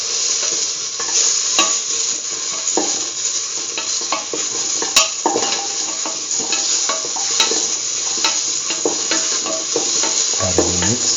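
Potato pieces fry and get stirred in a pan, a loud continuous hiss of sizzling oil with frequent scraping and clicking of the utensil against the pan, close and without talk.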